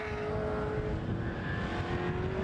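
A loud V8 engine in an MGB GT V8 race car growls steadily at high revs along a back straight with a deep, throaty rumble, holding a sustained drone throughout without pauses.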